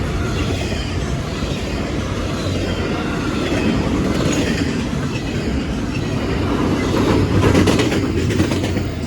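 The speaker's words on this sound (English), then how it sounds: "My 4th time I saw that train" Train passing on the railway at Bayview Road in Blasdell, New York, rail cars rumbling steadily with rhythmic clickety-clack from the wheels, loud and close, swelling briefly near the end.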